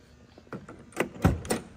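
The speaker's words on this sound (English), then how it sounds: "Door closes really nice" A classic Chevrolet Impala's door swinging shut, a few light clicks and rattles followed by a solid close thud and a shorter follow-up knock, heard close and alone.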